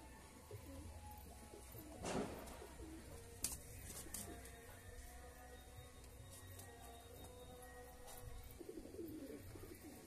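Pigeons of an old fly-line breed cooing in soft repeated calls, with a louder bird call near the start and steady low background noise throughout.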